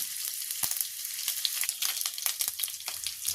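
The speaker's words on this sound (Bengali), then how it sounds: "প্রথমে তেলে একটু আদা বাটাটা দিয়ে নাড়াচাড়া করে আদা বাটাটার কাঁচা গন্ধটা যাওয়া অবধি নাড়াচাড়া করব।" Ginger paste frying in oil while being stirred, a steady close sizzle broken by light scraping taps of the spoon, with no one speaking.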